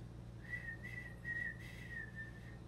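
A person whistles a faint, wavering single tone that holds and wobbles for about two seconds over a low steady hum, quiet and close, with no talking.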